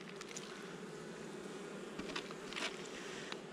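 Honeybees buzzing at a hive, a faint continuous hum with a few clicks and rustling handling noises at the colony and no speech.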